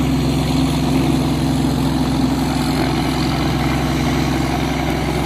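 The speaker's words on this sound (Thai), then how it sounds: "เรือลำเล็กนิดเดียว แต่ว่าก็ลาก เรือลำใหญ่บรรทุกหนักได้ ของแบบนี้มันอยู่ที่เครื่องยนต์ครับ" The engine of a small tugboat towing a large, heavily loaded boat on the Chao Phraya River sends out a loud, steady, low diesel drone that holds constant throughout, with no voices.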